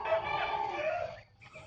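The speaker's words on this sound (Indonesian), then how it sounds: "Ini sudah remaja, ini ayam seramaku." A young serama chicken, kept for treatment of a snoring respiratory illness, lets out one drawn-out, slightly raspy crowing call that is close and clear, then falls briefly quiet.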